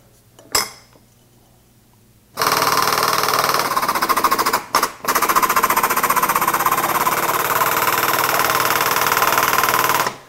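A lighter crank working a 10 ton hydraulic press for tungsten heavy metal, a close, loud, steady rapid mechanical clatter after a brief clink, with a couple of short pauses midway.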